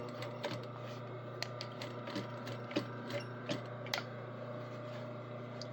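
A sewing machine back-stitching through nylon webbing, a low steady motor hum broken by a series of sharp irregular mechanical clicks and ticks, close and fairly quiet, no talking.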